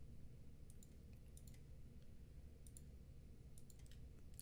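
Faint, sparse mouse clicks tap out over a quiet low hum as orders are cancelled one by one on a computer trading platform, the clicks coming in small irregular clusters.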